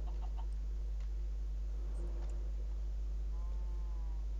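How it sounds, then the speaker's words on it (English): Minecraft chickens cluck faintly in a UHC match, with a few soft, brief calls over a steady low hum. "Chickens, good."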